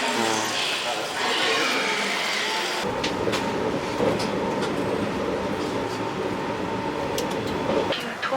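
A Tokyo subway train ride heard from inside the carriage, with a steady loud rumble of wheels on rails and an abrupt change in the rolling noise partway through, while people talk over it.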